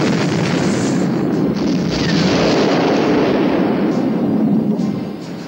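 A burning munitions ship explodes in a massive, continuous roar of blasts and rumbling detonations, loud and close, with dense crackling debris noise that fades slightly at the end.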